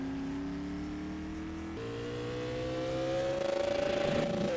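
A supermodified race car on a warm-up lap at Oswego Speedway holds a loud, steady engine drone that shifts up a gear and then climbs in pitch as it accelerates nearer.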